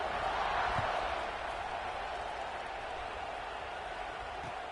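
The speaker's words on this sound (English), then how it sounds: "this crowd is feeling themselves after that last drive" Steady stadium crowd roar from College Football 26 at a kickoff after a scoring drive, a broad continuous wash of cheering that swells slightly at the start, then holds level with no voices in the foreground.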